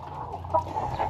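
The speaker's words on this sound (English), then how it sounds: "all the chickens are super happy, eating away" Soft, continuous clucking from a group of chickens eating at a feeder nearby, a steady low murmur of fowl with a few slightly louder clucks.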